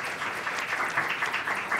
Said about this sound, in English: you've prompted an applause